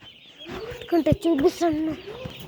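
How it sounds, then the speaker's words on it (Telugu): Small chickens cluck loudly and close by in a quick run of throaty, wavering calls, a few overlapping, rising over a quiet background. "ఇప్పుడు చిన్న కోళ్ళు చూపిస్తాం."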